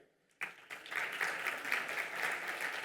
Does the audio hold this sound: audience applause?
yes